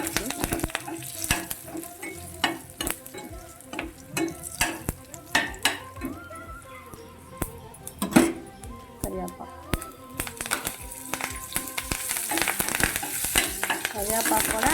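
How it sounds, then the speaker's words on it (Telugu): Green chillies frying in a pan of oil for moringa dal, a steady crackling sizzle with sharp pops and occasional stirring clinks, close and fairly loud, with a voice talking over it at times. "ఇప్పుడు మిర్చి వేసేస్తున్నాను."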